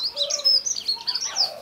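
Small birds chirp and twitter close by around an old holly tree with a thick trunk, bright high calls overlapping in quick bursts for a moment, with no talking.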